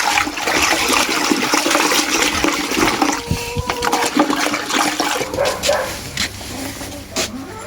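Copper sulfate crystals stirred into warm water, about 40-45 °C, in a bucket for a spring tree and shrub spray: steady loud sloshing and swirling that thins out into scattered splashes and knocks toward the end, with no talk.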